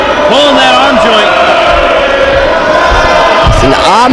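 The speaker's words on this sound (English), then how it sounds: "It's an ominous chant." A wrestling crowd at a live CCW event chants loudly in a dense, continuous roar, with rising whoops cutting through, while a commentator talks over it.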